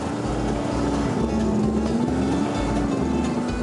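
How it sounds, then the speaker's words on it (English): The rear engine of a scrap-built mud racer, its front engine dead, revs hard while stuck in a mud pit, a loud, steady droning roar with a low throbbing pulse and a pitch that wavers slightly throughout. "But they gun it with the back engine."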